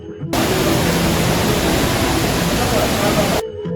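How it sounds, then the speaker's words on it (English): Water roars inside Gupteshwar Mahadev cave in Pokhara, a loud, dense, unbroken rush of broadband noise that starts abruptly and holds steady for about three seconds before cutting off. "inside the cave, the sound of the roar of water can be heard"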